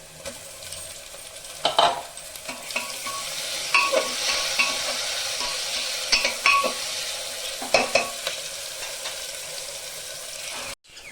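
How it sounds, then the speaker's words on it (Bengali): Chopped tomatoes drop into a pan of onion, garlic and ginger frying until red, for a rajma masala, giving a steady sizzle broken by several sharp stirring scrapes, close and fairly loud, with no talking. "পেঁয়াজ, রসুন, আদা আমার সব লাল হয়ে গেছে। এখন আমি টমেটো দিয়ে দেব।"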